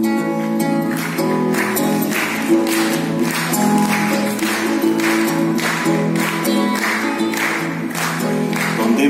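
An audience claps along in rhythm as percussion to a live song, a regular run of claps layered over singing and instruments.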